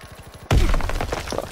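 Silenced gunfire in Call of Duty WW2 multiplayer: a sudden loud muffled burst follows a quiet lead-in, then a quick run of softer thumping impacts.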